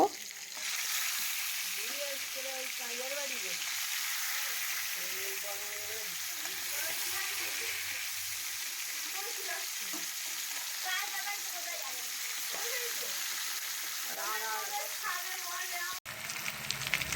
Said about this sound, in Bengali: তো এই যে তেল দিয়ে দিলাম কড়াইয়ের মধ্যে। এবারে মাছগুলো এক এক করে ভেজে নেব।